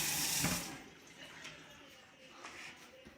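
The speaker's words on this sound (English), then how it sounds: "I'm going to rinse that spoon off because we might need it here soon." A spoon rinsed under a kitchen tap while cooking, a brief loud burst of running water that cuts off quickly, followed by quiet clinks and faint room noise.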